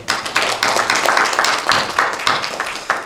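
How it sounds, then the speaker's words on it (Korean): A church congregation claps together during a Sunday anniversary service, a steady, lively burst of applause, close and fairly loud, with no talking. "감사의 마음으로 박수 한번"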